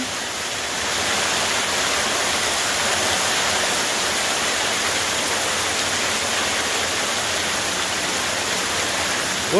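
Steady, dense hiss of sleet and rain falling outdoors, loud and unbroken throughout, with no voices.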